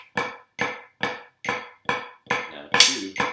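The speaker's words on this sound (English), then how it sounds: "Eighth note flams with the left hand." Left-hand eighth-note flams played on a drum practice pad, seven crisp doubled taps in steady rhythm, close and clear, with a brief faint voice near the end.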